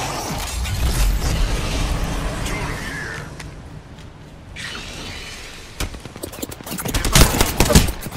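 Gunfire crackles through a match of the video game Apex Legends in loud, dense bursts and rapid volleys, with a lull in the middle and heavier shooting near the end, amid other game noise.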